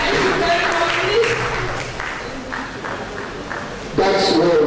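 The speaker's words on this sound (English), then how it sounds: "Please want to let's put hands together for our Dr. Dorothy Obola and Dr. Anna Omonagwe." An audience claps after a session at a Thrombosis Day 2020 medical event, with a steady spread of applause running under a voice speaking throughout and swelling louder near the end.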